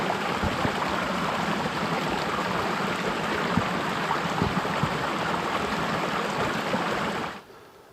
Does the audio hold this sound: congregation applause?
no